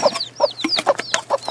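Chickens cluck close by in quick, repeated bursts over a low steady hum, with several birds calling over each other in a farm animal sanctuary.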